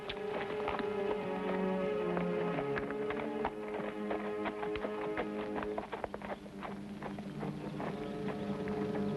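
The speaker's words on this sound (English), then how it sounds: "Look at that mare." A riderless mare's hooves clip-clop steadily on hard ground in a classic Western setting, the regular clopping rhythm sounding close over a sustained tonal music bed.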